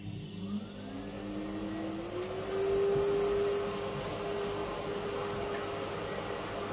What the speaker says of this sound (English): I'm going to start the hoover up again. So if it's noisy,